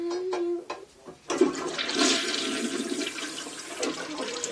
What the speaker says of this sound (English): Oh, flush now, flush!